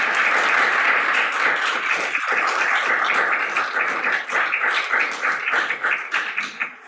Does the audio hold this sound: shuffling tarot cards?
no